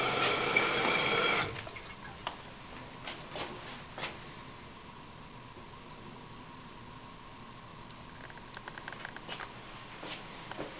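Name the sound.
toilet tank water flowing down overflow tube into bowl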